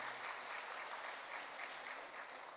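An audience at a city education awards ceremony applauds for an elementary school, a steady, dense wash of clapping that holds evenly throughout, fairly distant and with no voices over it.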